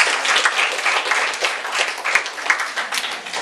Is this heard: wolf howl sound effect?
no